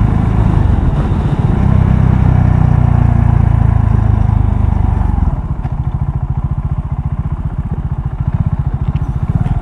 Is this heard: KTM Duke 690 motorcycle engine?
yes